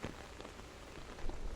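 Rain falls steadily on a roof, a dense continuous patter of drops with a slight swell near the end, heard alone without any voices.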